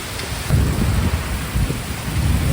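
Heavy rain pours steadily in a sudden thunderstorm in Albany, New York, while deep thunder rumbles through it, loud and continuous, with no voices.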